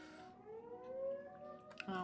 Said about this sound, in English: if you hear a siren